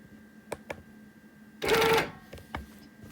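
A sewing machine stitches a brief tie-off while quilting a wholecloth quilt, a short dense burst of rapid stitching near and fairly loud, framed by a few faint clicks before and after.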